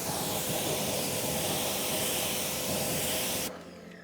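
A water spray rinses a car tire and pitted rims during a tire wash, giving a constant loud broadband hiss of water that cuts off abruptly near the end, leaving quieter background.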